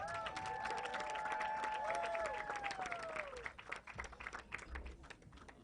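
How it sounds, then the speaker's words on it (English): An event audience claps to welcome Nina Gualinga of the Sarayaku people, a fairly faint, steady spread of applause, with a gliding whistle-like tone over it early on that fades, then clapping thinning out toward the end. "Big round of applause for Nina."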